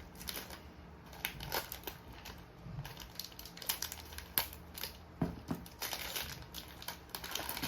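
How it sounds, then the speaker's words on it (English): Scissors snipping nearby in a series of short, sharp cuts at an uneven rhythm, mixed with light rustling of material. "I need the scissors."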